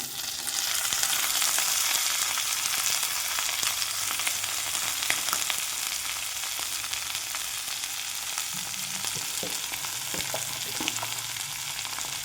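Onion, potato and garlic frying in oil as a base for a dried fish curry: a dense, steady sizzle that holds throughout at close range, with faint occasional stirring and no voices.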